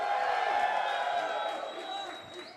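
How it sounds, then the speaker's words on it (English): An indoor crowd at a Los Angeles founder event for Midnight Society cheers and whoops in a sustained wash of noise that slowly fades, with a host's amplified voice talking over it. "how's it going out there, crowd? Can I hear some noise, huh?"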